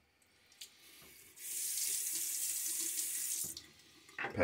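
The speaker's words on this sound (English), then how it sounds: "Pass one, a little bit of splash of water." Tap water runs steadily into a bathroom sink during a wet shave, a constant near hiss for about two seconds before the flow shuts off, with faint handling clatter around it and no talk.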